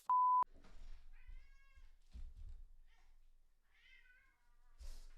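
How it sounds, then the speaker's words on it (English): After a short electronic beep, a cat meows faintly a few times in a quiet room, with soft thumps in between. "I can totally hear your cat in the background."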